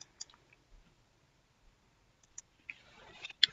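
A computer mouse gives a handful of quick, quiet clicks separated by near silence, followed by a brief burst of fainter clicking and rustle near the end.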